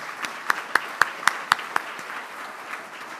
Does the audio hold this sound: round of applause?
yes